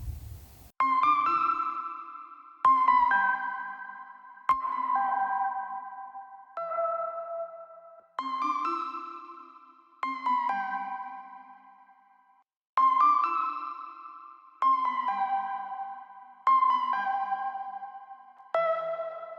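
Bright synth notes processed through the LANDR FX Suite play in short repeated phrases, each ringing out with an echoing, processed tail, steady and clear with no voices.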